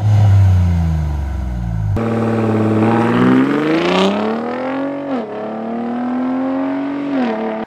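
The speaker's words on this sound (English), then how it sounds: "you can put it in Baja mode and annoy your neighbors in off-road mode only, and it sounds kind of fun" Ford Bronco Raptor with dual exhaust in Baja mode, revving hard with a raspy, rising engine note that climbs, dips and swells again in a few loud pulls, close by and with no talk.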